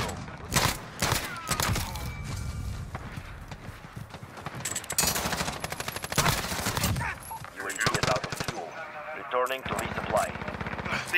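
Gunfire from akimbo Snake Shot pistols in Call of Duty Modern Warfare, loud rapid bursts of shots in clusters with brief pauses between them, set in busy game action.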